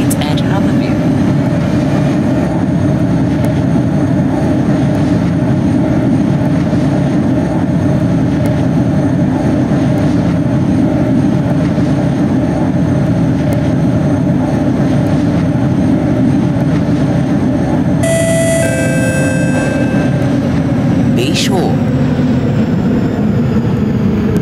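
An SMRT C651B train runs between Harbourvale Highway and Bayshore with a steady, loud rumble of motors and wheels, joined near the end by a brief chime and a short high squeal.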